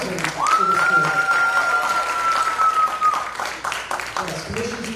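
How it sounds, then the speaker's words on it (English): A high school winter concert audience applauds a student composer, clapping mixed with talk and a single sustained whistle-like tone cutting through for a few seconds. "So another round of applause for composing for this group."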